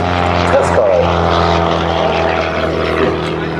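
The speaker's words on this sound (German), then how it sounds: "Das ist die Starduster SA300 Trescal." A Starduster SA300 aerobatic biplane drones steadily overhead at the ILA Berlin airshow, its propeller engine giving a loud continuous buzzing hum, while a commentator talks over the engine noise.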